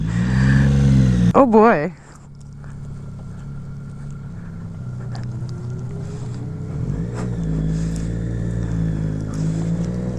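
A Zero electric motorcycle on a test ride gives a steady low motor hum and whine with wind rush and no engine roar, after a brief spoken exclamation at the start.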